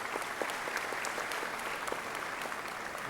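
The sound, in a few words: audience applause for the diplomatic corps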